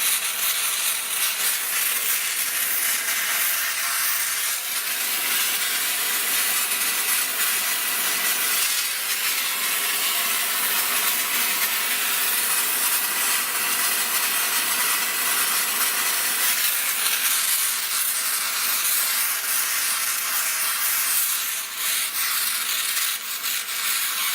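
A torch heats a rusted bolt on a car's radiator core support, producing a loud, unbroken roaring hiss of flame that holds steady for the whole stretch without talk.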